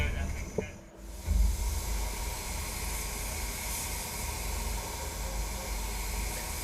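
Sata Jet 4000B HVLP digital spray gun laying down a second coat of clear on a car panel, a steady close airy hiss that starts after a brief pause and runs on without a break.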